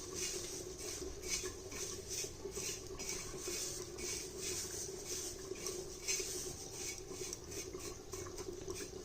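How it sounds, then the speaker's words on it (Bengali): Dried fenugreek (kasuri methi) dry-roasts in a pan, making soft continuous scraping and light rustling stirs with faint metallic clinks close by, without speech. "এবারে আমি এই কসুরি মেথিটা শুকনো খোলায় একটু ভেজে নেব।"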